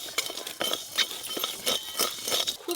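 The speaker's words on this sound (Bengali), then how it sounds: "এই গোটা মশলাগুলো কিন্তু তেল দিয়ে ভাজলে হবে না, শুকনো কড়াতে এইভাবে একটু ভেজে নিতে হবে।" Whole spices dry-roasted in a dry wok, stirred so they rattle and clink against the metal in quick, irregular bursts, close and fairly loud with no talking.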